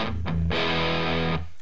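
Heavily distorted electric guitar amp played through a Big White Monkey 100-watt attenuator, two short choppy bursts then a loud sustained chord ringing out for about a second before cutting off.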